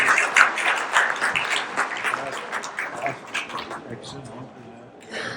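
A conference audience gives a round of applause for a doctor after an orthopaedic joint-replacement oration in Patna. The clapping is crowded and fairly loud, with voices mixed in, and it slowly eases off before a brief swell at the end.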